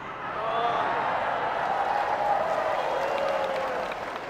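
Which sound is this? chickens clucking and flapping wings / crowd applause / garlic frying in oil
crowd applause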